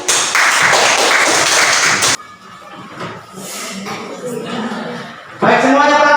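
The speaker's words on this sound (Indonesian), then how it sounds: "tepuk tangan untuk kelompok 1." A classroom applauds a student group for a couple of seconds. Then a voice speaks, and a second short burst of clapping follows at the end.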